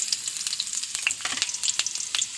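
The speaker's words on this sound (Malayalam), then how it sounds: "എണ്ണ ചൂടായിരിക്കും ഇഞ്ചി ഇടുന്നു" Ginger crackles and sizzles sharply in hot oil, a bright, busy spitting sound with a few scraping stirs, close up.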